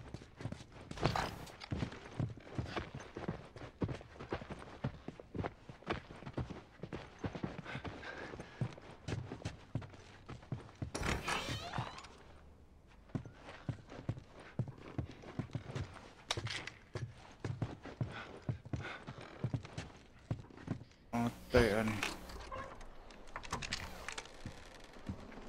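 Horse hooves clopping in The Last of Us on PS3, a fairly quiet run of rapid irregular clicks and thuds that goes on for most of the stretch, with one short lull partway through.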